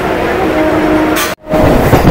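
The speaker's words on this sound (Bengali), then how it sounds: "তো আমাদের ট্রেনটা অনেক জোরে এখন টানছে, 80 থেকে 90।" A fast local train on the Barasat to Janai line, heard from inside the carriage as a loud steady rumble with a low hum, briefly cut off by a sudden gap before the roar resumes.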